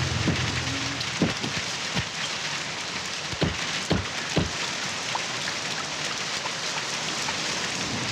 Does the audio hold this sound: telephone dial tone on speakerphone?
no